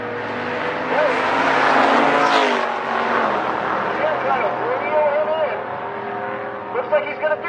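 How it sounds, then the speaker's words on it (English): A pair of Pontiac drag race cars at a grudge race launching down the strip, engines roaring loud and close then fading as they pull away, with an announcer talking over them. "A pair of Pontiacs. Little grudge race action."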